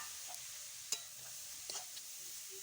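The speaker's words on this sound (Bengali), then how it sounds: "ঘির সঙ্গে ভালো করে গাজরটা ভেজে নিচ্ছি নেড়ে চেড়ে।" Grated fresh carrots stir-fried in ghee in a pan, a faint low sizzle with a few light spoon scrapes and clinks, quiet and close, no voices.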